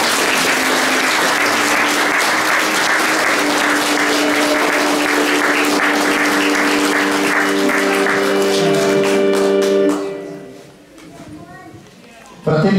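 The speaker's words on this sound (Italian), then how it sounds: "Marco e Angela sono marito e moglie, possiamo accogliere questo momento con un applauso." Wedding guests applaud the newly married couple in a church, loud sustained clapping filling the space with music underneath, then fading out near the end.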